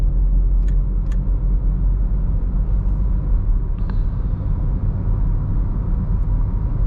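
A Toyota Glanza AMT car cruises in top gear at highway speed, with a deep steady road and engine rumble inside the cabin and a few faint clicks, no voices heard.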